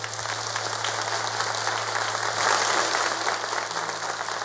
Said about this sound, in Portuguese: Dá uma salva de palmas para isso, porque é bom.